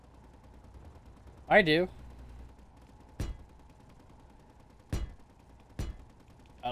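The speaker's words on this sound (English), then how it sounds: "I hear guns still going" Distant gunfire in the space-building video game Space Engineers, several sharp single shots spaced seconds apart against a quiet background, with a brief spoken remark near the start.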